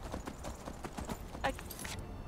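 Rhythmic clip-clop of horse hooves in Skyrim at a steady trotting pace, fairly faint, with a brief snort or whinny partway through.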